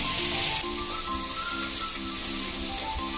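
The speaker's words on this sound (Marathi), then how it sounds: "छान सॉटे करून घ्यायचं आहे" Tomato and mixed vegetables sautéing with cumin and curry leaves in a hot pan, giving a steady close sizzle with faint stirring clinks and no voices.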